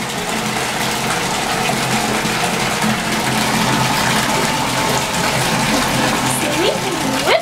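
Water gushes steadily from a bathtub faucet at home, a loud continuous rushing flow that fills the whole stretch with little change.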